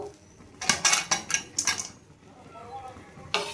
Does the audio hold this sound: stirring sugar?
yes